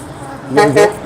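Two short, loud car horn toots sound close together near big trucks, standing out against a quieter background.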